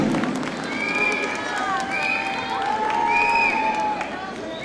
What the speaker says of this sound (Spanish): un aplauso de la distinguida barra para su candidata